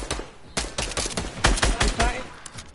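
Rapid bursts of video game gunfire crackle in irregular volleys, fairly loud and close, with faint voices in the mix.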